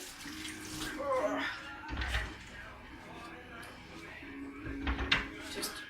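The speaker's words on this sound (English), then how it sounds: "So then I'm going to wash my hands." A tap runs with splashing water during handwashing in a home kitchen. The running and splashing come and go with a few clunks, and a voice talks over it.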